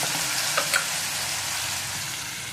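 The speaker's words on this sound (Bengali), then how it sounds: "দিয়ে এটাকে আমি নাড়াচাড়া করে ভেজে দিচ্ছি" Curry frying in a pan with ground spices and turmeric, a steady bright sizzle with a couple of brief scraping stirs near the start, close and continuous with no speech.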